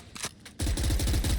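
Rapid automatic gunfire from Reyna's weapon in a tactical shooter video game, a loud sustained spray of evenly spaced shots that starts abruptly after a few quieter clicks.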